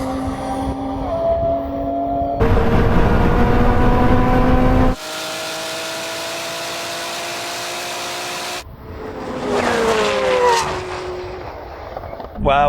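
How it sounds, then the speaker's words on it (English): A Koenigsegg and a BMW race, with loud engine roars rising in pitch through gear changes and abrupt cuts between segments, ending in a passing whoosh. "Is that Koenigsegg going to catch the BMW?"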